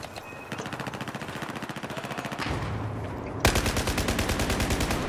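Rapid automatic gunfire from Battlefield 4 gameplay, a dense rattling stream of shots that turns heavier and louder partway through, with continuous bursts and no talk.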